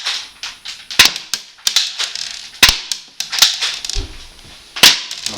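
A Mossberg tactical spring airsoft pistol fires a string of sharp, loud snapping cracks at uneven intervals, with smaller clicks and rattles of handling between shots.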